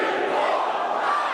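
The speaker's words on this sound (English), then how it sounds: "The crowd chanting along." Wrestling crowd at a WrestleFest match chanting along in unison, a dense, loud wash of many voices held steadily throughout without a break.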